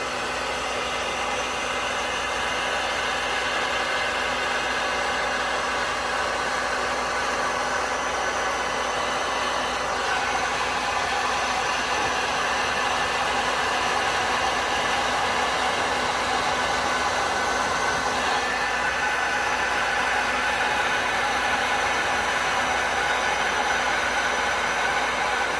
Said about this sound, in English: Turn my heat gun off